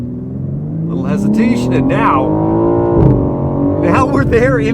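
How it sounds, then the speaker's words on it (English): A BMW M4 Competition coupe launches hard under launch control, engine note rising steeply through the revs with a brief shift dip near the middle, loud and close from inside the cabin while someone talks over it. "preparing launch control, it's ready, letting go."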